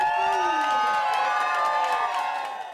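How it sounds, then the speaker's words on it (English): A crowd at a beach cafe cheers after a mayoral election win, a short loud burst of whoops and shouting that fades slightly at the end. "The crowd at Bums Beach Cafe excited"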